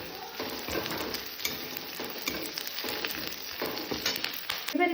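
Mustard seeds, asafoetida and curry leaves frying in hot oil give a steady, close crackling sizzle with dense popping, continuous throughout with no talking.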